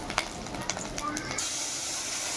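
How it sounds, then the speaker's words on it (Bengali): Black cumin and dried chili tempering hit hot leftover fish-frying oil in a wok, a close steady sizzle and hiss that swells after a few light stirring clicks. "আমি একটুখানি কালো জিরা দিয়ে এবার দিয়ে দিলাম লঙ্কা ফোড়ন"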